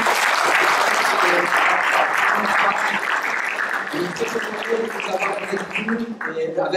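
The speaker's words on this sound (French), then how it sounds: "Est-ce que vous pouvez applaudir?" A church congregation applauds first-time visitors with a loud, full round of clapping that runs strong for several seconds, then thins and becomes more scattered while voices and a pitched tone come through near the end.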